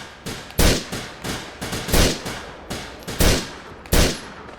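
Gunshots in Grand Theft Auto IV, five sharp loud cracks at uneven intervals over a low steady game backdrop, with no talking.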